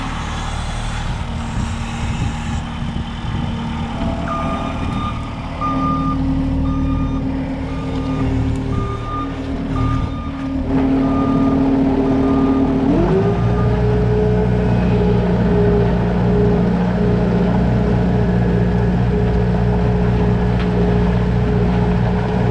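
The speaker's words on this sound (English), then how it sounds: "Meet the worst skid steer driver here, Mr. Isaac." A skid steer loader drives nearby with a loud, rumbling diesel engine, the revs rising partway through, while intermittent reversing beeps sound over it for several seconds.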